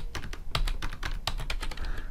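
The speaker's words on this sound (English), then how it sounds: "and then here I'm gonna type" Rapid, uneven keystrokes clatter on a computer keyboard, close and clear, as someone types code in a steady burst with no voices.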